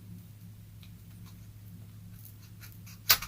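A craft knife cuts a hole into a rolled-up newspaper, giving a faint, soft scratching and scraping close by, ending in a brief sharper snap.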